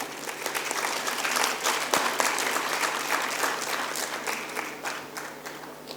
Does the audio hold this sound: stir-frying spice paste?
no